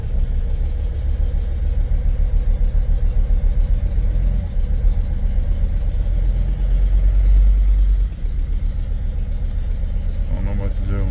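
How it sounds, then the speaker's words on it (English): Diesel engine of a Mercedes T1N Sprinter van with an injector leak runs steadily at close range, a loud continuous idle with slight swells suggesting light revving near the end. "I don't know if I should rev the engine a little bit."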